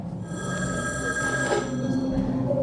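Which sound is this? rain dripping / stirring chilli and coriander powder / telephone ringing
telephone ringing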